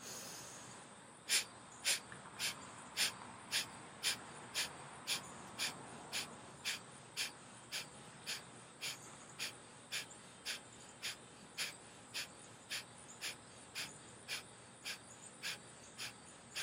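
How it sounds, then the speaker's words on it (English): Breath of fire yoga breathing, a long run of rapid forceful exhales through the nose, evenly spaced at roughly two per second, close and clear, with no talking. "And inhale to start breath of fire."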